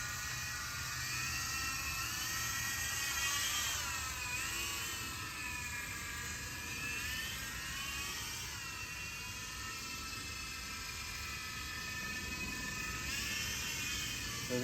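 Hercules unbreakable RC helicopter in flight, a close, continuous high-pitched rotor and motor whine that rises and falls in pitch as the throttle shifts, with no talk over it.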